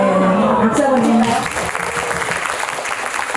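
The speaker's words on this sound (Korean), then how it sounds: "박수 한번 주세요" An audience at a Korean book concert for an author bursts into applause, the clapping fairly close and dense at first, then thinning slightly, with a voice speaking over the start.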